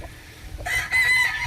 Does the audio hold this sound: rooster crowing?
yes